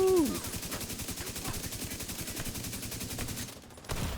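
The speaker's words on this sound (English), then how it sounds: "Pretty sure I just shot a whole freaking magazine." A rapid, evenly spaced string of shots empties a full magazine in The Division 2, loud and continuous for a few seconds before cutting off and leaving a brief quiet.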